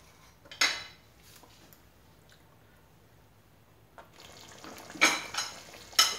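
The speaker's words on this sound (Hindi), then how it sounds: "इसमें काजू है इसलिए इसको बार बार मैं हिला रही हूँ ताकि ये गले" A spoon scrapes and clinks against a pot as chicken curry with cashews is stirred, several sharp metallic knocks spaced out between soft thick stirring, close with no talking.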